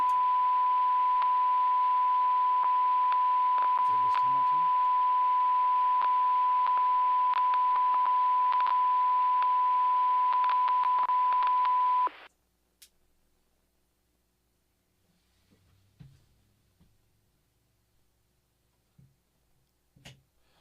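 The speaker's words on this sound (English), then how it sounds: "I'm not sure if you hit a timeout timer or what that was, but we heard a beep and then we heard a long tone" A steady, loud single-pitch tone holds for about twelve seconds over a radio net, then cuts off abruptly to near silence with faint scattered noises.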